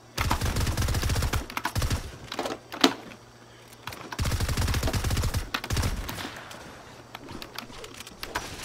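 Rapid bursts of gunfire in Fortnite, two long rattling volleys separated by a short pause, loud and close, followed by scattered fainter shots.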